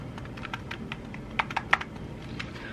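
Soft, quiet keystrokes tapping irregularly on a small Razer gaming keyboard, with a few slightly sharper clicks in the middle.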